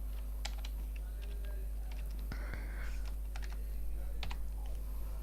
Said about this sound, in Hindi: तो इसके लिए हम फिर फार्मूला टाइप करेंगे इस जगह पे आके